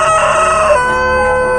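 A rooster crows loudly and close by in a long single call that fades out, with no talk, accompanied by a sustained tonal background during an epic folk ritual scene.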